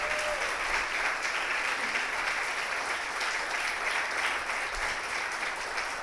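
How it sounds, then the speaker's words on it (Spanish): Church congregation applauding during a Spanish-language sermon, a continuous, moderately distant wash of clapping from many hands, steady and even for several seconds with no speech on top. "¿Quieren darle un aplauso al Señor?"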